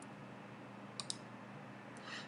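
A computer mouse clicks in CAD software while a part is selected: two quick clicks close together, then a third soft click, faint over a low steady hum.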